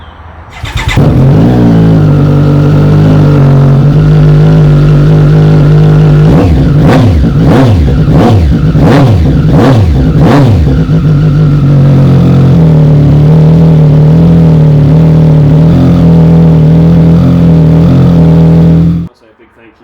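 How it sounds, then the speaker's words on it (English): Triumph Street Triple 765RS with its exhaust, starting up and idling loudly up close, then a series of about five sharp throttle blips rising and falling before settling back to a steady idle and cutting off. "you want to hear this exhaust, it sounds amazing, so let's just see what this thing sounds like"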